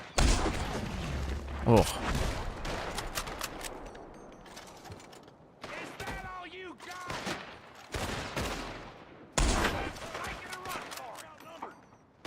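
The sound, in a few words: gunfire in the video game Red Dead Redemption 2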